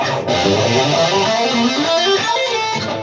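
A fast run of notes on electric guitar, played smoothly and continuously, up close and alone, climbing through a bright F Lydian scale.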